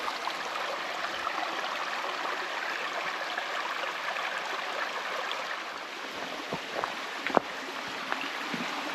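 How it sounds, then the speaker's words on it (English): A small woodland creek near Kempt Falls in Ristigouche Sud-Est, Quebec, flows with a soft, continuous rushing and trickling, steady and fairly faint, with a few light knocks near the end. "Just this little creek and the sound"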